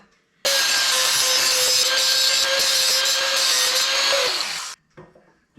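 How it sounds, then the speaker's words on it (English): A cutting wheel grinds through metal on a tractor in one continuous, loud, close pass of about four seconds, with a steady high whine that begins and stops sharply. "Did you know a cutting wheel works as a grinder?"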